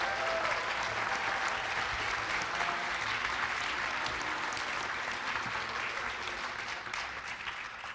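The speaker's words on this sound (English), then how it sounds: "please applaud them, and please applaud the Trent case and Paul and Evelyn Trent themselves" Sustained applause from a conference audience at a Phoenix Lights UFO panel discussion, a dense, even wash of clapping that holds steady for the whole stretch and thins slightly toward the end.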